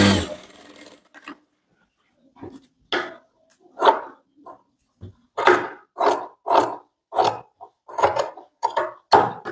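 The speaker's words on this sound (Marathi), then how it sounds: "पुन्हा एकदा एक शिलाई मारून घेते." A sewing machine runs in short bursts while stitching a boatneck blouse seam, with quick pulses of rapid needle clatter separated by brief pauses, fairly close.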